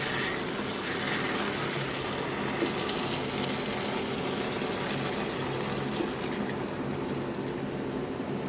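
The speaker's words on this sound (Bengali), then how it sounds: "এবার আমি ঝোলের জল দিয়ে দিব।" Water pours steadily into a pot of cooking curry, a continuous rushing gush with faint sizzling that lasts several seconds without pause.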